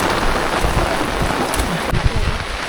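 Heavy monsoon rain pours steadily during a trek up Raigad Fort, a dense, even hiss of rainfall close around the listener, with a few louder gusts or splashes near the end.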